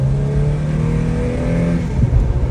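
A car engine running on propane after tuning revs loudly and steadily up close, a dense droning roar with a slight shift in pitch near the end and no voices over it.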